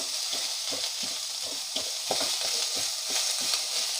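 Masala sizzles steadily in hot sesame oil while a spoon stirs and scrapes the pan in short, regular strokes, close by and without voices, while cooking country chicken soup.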